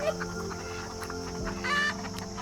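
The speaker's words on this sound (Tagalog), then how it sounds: "Manok at saka mga manok na amo." Chickens cluck on a farm where ducks and turkeys are also kept, several birds clucking and calling in overlapping bursts at moderate distance, with a steady background hum.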